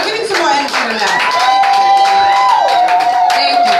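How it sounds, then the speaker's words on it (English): A comedy club audience in Harlem claps and cheers as a crowd, steady and fairly loud throughout, with a few voices calling out over the applause. "Clap it up."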